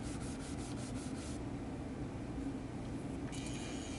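A grinder works the surface of a scrap steel post anvil, making a continuous harsh rubbing roar that is steady throughout, with a faint rhythmic pulsing early on.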